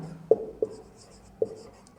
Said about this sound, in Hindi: क्या एक क्वेश्चन मैं यहाँ पे ये लिखता हूँ